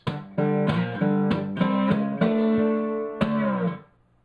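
A slide guitar in open G climbs in a short chromatic run of distinct plucked notes, the last one sustained with a slight waver before fading out. No voices.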